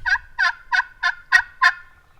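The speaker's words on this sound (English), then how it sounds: "Sure enough, there's one gobbling in that field that we were just in." A wild turkey gobbles in an open field, six rapid-fire rattling gobbles in a steady rhythm lasting about two seconds, fairly close and loud against a quiet background with no talking.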